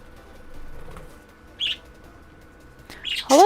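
A pet bird gives a few short, close chirps in quick bursts, ending with a louder squawk, with soft wing flutter in a quiet indoor room.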